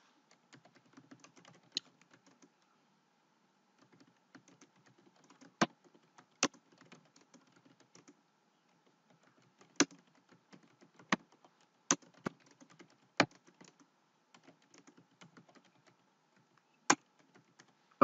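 Sparse keystrokes on a computer keyboard tap out in a quiet room, soft clicks interspersed with occasional sharper, louder key presses spaced irregularly over several seconds.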